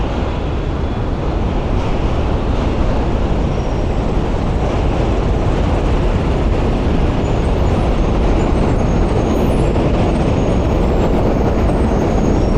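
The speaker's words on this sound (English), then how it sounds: "We're going to be walking by a lot of trains," Steady, loud rumbling roar of a train rolling past close by on tracks near the Manhattan Bridge in DUMBO, Brooklyn, continuous with no pauses and no voices.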